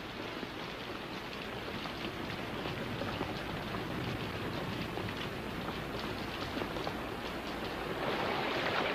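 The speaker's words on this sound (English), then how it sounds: "The forest floor can usually absorb rain as it falls, but when the rains are particularly heavy, the forest becomes saturated." Heavy rain pouring down in a tropical rain forest, a dense, steady hiss of countless drops on foliage and ground that swells a little louder toward the end, with no voices.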